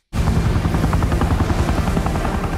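A helicopter in a Stranger Things episode, a loud close rotor chop that starts abruptly and pulses rapidly and evenly for a couple of seconds.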